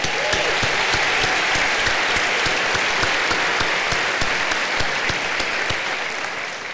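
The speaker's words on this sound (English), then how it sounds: "Let's hear with your applause" An audience of school faculty at a back-to-school celebration applauds, a broad steady wash of many hands clapping with a few sharp nearby claps, slowly fading toward the end.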